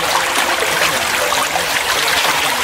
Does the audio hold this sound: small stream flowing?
yes